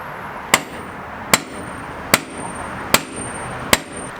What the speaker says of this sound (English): So now somehow I got to get in there and hammer that back